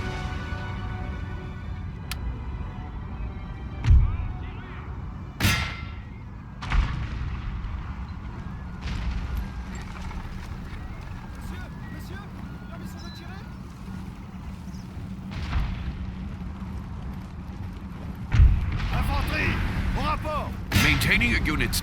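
Scattered booms of cannon artillery in Total War: Napoleon, several distinct heavy thuds spread across the clip over a low rumbling battlefield bed, with a narrating voice talking throughout.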